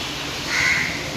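One crow gives a single caw, a short harsh call standing out from a low steady room hum, with no one talking.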